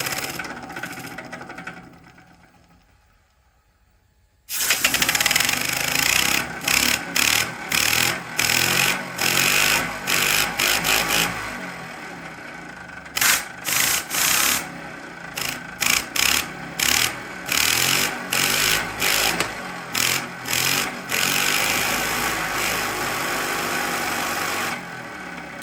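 A five-cylinder rotary steam engine fades out into near silence, then starts up and runs with a loud rapid chuffing beat, slowing into distinct repeated pulses before continuing steadily.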